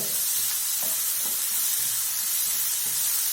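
Capsicum sautéing in a pan for a crispy bread chilli dish gives a steady, close sizzle and hiss with a few faint stirring scrapes, no voices.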